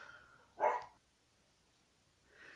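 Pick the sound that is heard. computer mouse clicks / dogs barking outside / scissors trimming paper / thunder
dogs barking outside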